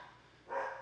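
A house dog barks once or twice nearby, a short, loud burst rising out of quiet room tone in a home recording studio setup.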